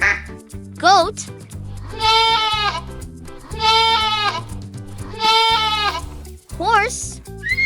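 Goat bleating in three long, quavering calls spaced apart over gentle background music, with brief spoken words at the start and end.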